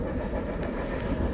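An ore train draws closer as a steady, low rumble of rolling freight cars, fairly faint and continuous with no talking.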